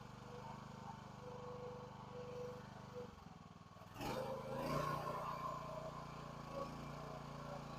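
A Chinese mini excavator with an Elk Equipment auger attachment hums steadily as it drills into the ground. Midway the engine is throttled up to a louder, rougher drone that holds close and continuous to the end.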